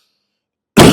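A single short, sharp cough, close and loud, after a stretch of near silence.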